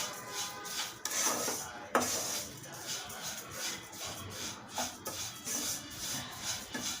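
Wheat rava and ragi flour roasting in a pan, a soft dry scraping and shuffling as a spatula stirs it, with occasional light metallic clinks, steady and close.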